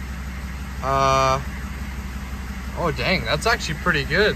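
A Chevrolet 2500 pickup's 6.5 V8 diesel engine idles steadily in the background after starting, a low, even rumble running under a brief tone and someone talking.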